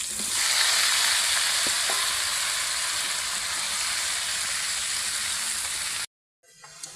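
Teasel gourd fries in oil with already-browned chopped onions and green chilies, giving a loud, dense sizzle with a few stirring knocks that cuts off abruptly near the end, leaving brief quiet.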